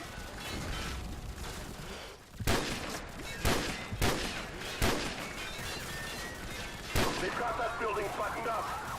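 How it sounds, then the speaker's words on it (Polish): Several sharp, loud sniper rifle shots crack out at irregular intervals over a dense background of rumbling gunfire and battle noise in Call of Duty 4. "strzał od snajperki poznam wszędzie"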